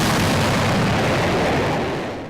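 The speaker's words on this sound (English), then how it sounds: "for a very loud jet." A Navy Growler military jet roars loudly over forest on the Olympic Peninsula, a dense, continuous rumble that fades slightly at the end.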